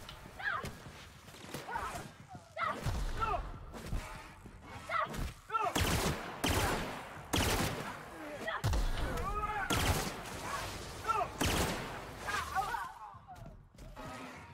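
Gunfire in the sci-fi game The Outer Worlds, bursts of loud shots cracking repeatedly across the whole stretch amid combat noise, with someone talking between and over the volleys.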